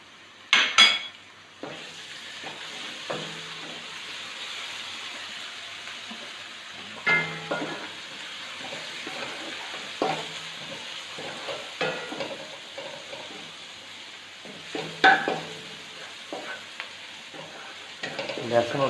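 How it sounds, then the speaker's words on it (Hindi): Garlic and onion sizzle and fry softly in a pan, with occasional scraping stirs and clinks of a utensil against the metal. "अभी हमारा लहसुन और प्याज जो है वो अच्छी तरह से फ्राई हो चुका है"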